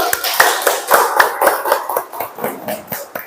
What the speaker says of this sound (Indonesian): Terima kasih untuk kelompok yang laki-laki. Tepuk tangan dulu.